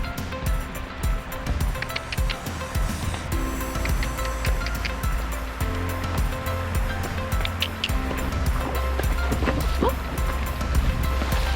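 Steady rushing and splashing of water as a horse wades across a creek with small ripples, broadband wash, irregular sloshes throughout, close and continuous.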